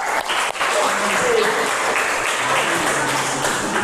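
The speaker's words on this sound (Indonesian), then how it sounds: "Beri tepuk tangan untuk Riva." A class applauding a student presenter in an Indonesian classroom lesson, a dense continuous round of clapping close by, with a few voices murmuring faintly underneath.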